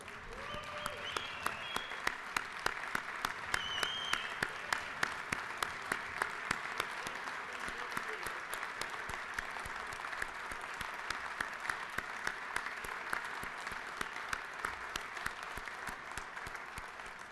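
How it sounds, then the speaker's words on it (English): A round of applause from lawmakers in the Georgia House chamber honoring a military officer, steady dense clapping sustained throughout at moderate distance, fairly even in level. "Can I get a round of applause for First Lieutenant Earhart?"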